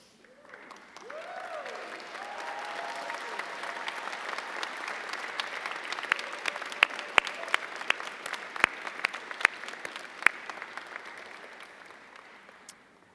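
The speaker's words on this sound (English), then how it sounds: "applause." At a 2019 commencement ceremony, standing graduates give their families a long round of applause that builds from quiet to a steady roar, with scattered sharper claps and whoops standing out before it tapers off.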